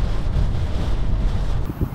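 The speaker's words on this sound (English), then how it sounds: "that's a gust and a half." A strong wind gust from a severe storm with a microburst near Goulburn, New South Wales, roars steadily across the microphone as loud, continuous buffeting rumble, with no voices.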